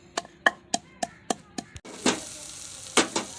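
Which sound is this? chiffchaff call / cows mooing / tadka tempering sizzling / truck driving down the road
tadka tempering sizzling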